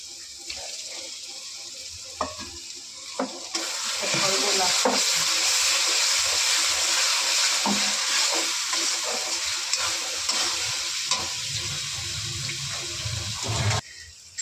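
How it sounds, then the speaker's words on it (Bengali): Spice paste fries in a pan for chicken chaap, a few scrapes at first, then a loud, steady hissing sizzle that carries on with light stirring before cutting off near the end. "দেখো এই মশলাটা ভালো করে একটু কষিয়ে নিয়েছি।"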